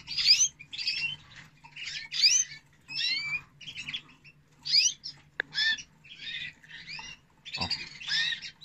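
Male canary in breeding preparation singing close by, a rapid series of bright chirps and trills in short bursts with brief gaps between them.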